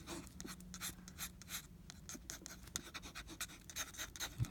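A dip pen nib scratches across paper in quick, faint strokes, making a soft, close, repeated scratching rhythm.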